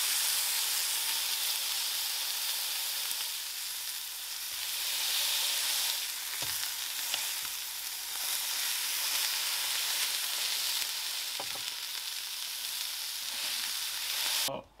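A beef burger patty pressed down in a hot pan sizzles steadily with a loud, continuous frying hiss that lasts throughout, with no talking.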